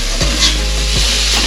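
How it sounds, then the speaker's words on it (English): Spices warming in a soup pot are stirred, giving three scraping strokes against the bottom over a steady, close sizzle, with no talking. "You need to keep stirring it at this stage because it may stick to the bottom due to the spices."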